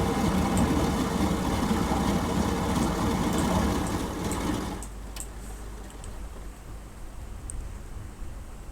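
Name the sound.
Latécoère 631 flying boat engines shutting down in MSFS video game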